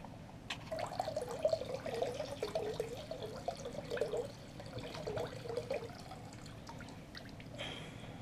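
Motorcycle foam air filter cleaner for a ZX10R pours from its 250 ml container in a close, gurgling stream that runs for several seconds, with soft drips and trickles as it tapers off.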